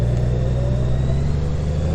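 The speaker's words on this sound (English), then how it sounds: "we did all of that through engine braking" A Honda Gold Wing DCT motorcycle slows under engine braking, giving a steady, loud, low engine drone with a faint whine above it and no voices.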